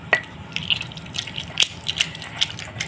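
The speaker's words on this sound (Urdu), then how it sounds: "یہ میں عام پانی ڈال رہا ہوں، سادہ پانی ہے" Plain water pours into a pan or container while almond syrup is made, a soft running trickle with scattered splashes and drips, near and fairly quiet, with no talk.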